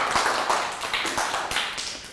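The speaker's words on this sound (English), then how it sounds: "Big high five for Chu and a round of applause." A primary-school class applauds a pupil during a Year 3 maths lesson with a steady patter of small hands clapping, close and moderately loud, fading slightly toward the end.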